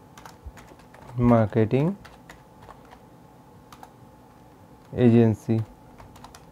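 Computer keyboard typing with light, quick key clicks throughout, set against a quiet background and interrupted by two short stretches of speech.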